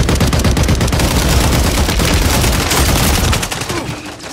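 Dense, loud automatic gunfire in a first-person shooter video game, continuous overlapping rattling shots close by that ease off in the final second.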